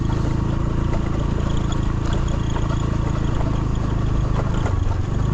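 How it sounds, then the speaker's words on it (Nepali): A scooter moves quickly along a road toward Sunkoshi Bazaar, its close engine drone and wind rumble steady and loud from start to finish. "स्कुटर त स्पिडै हिँडिरहेछ बाटो त"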